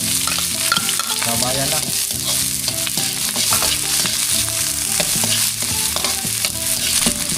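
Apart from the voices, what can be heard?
sautéing garlic, onion and ginger with sardines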